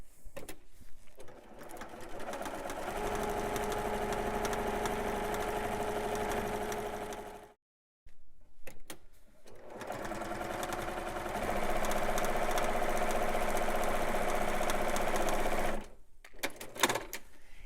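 A sewing machine runs in long steady stitching bursts while stitching quilt pieces in quilt-as-you-go improv piecing, pausing briefly between runs, close and loud with no talk.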